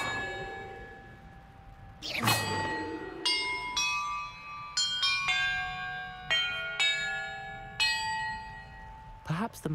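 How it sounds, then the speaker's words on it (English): Bells in a music puzzle in the video game Hogwarts Legacy ring out one at a time, with about eight bright, clanging strikes at uneven intervals, each leaving a long resonant ring, plus a heavier clang near the start. "Perhaps the map contains clues about the order I'm supposed to ring the bells in."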